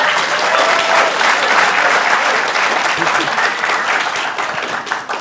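Loud, sustained applause from a debate audience, dense clapping filling the room and tapering slightly toward the end.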